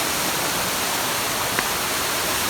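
A waterfall, heard from near its summit, gives a continuous, close roar of falling water, dense and unbroken from start to finish with no voices.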